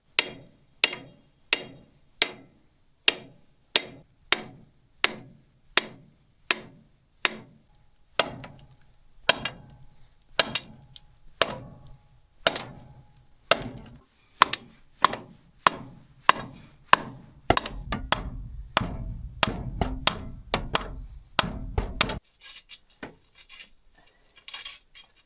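A copper ground rod is hammered into frozen ground in a woodshed corner: a long run of sharp, evenly spaced blows with a metallic ring at first, then quicker, heavier strikes with a dull rumble before stopping.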